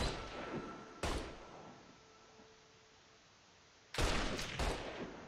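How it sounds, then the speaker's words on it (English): Gunfire in the video game Mafia 3: two loud broadband bursts of shots, one near the start and a cluster toward the end, separated by a quieter stretch of low ambient game sound with a faint tone. "Guys shooting guns are not bad guys."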